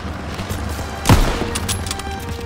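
A single sharp, loud gunshot from a World War II shooter game cracks through mid-clip over steady low battle rumble, with faint scattered distant shots trailing after it.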